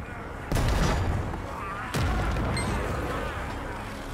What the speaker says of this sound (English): Use the cannons and defend the battlements!